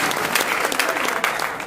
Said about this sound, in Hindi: एक बार तालियां आप लोग बना के आपके साथ दीजिए।